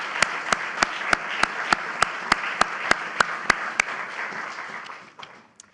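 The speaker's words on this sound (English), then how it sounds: "Let's have a round of applause for the great staff, White House" An audience at a White House bill signing applauds the White House and Senate staff, with sharp, evenly spaced claps ringing out above a wash of crowd noise before fading near the end.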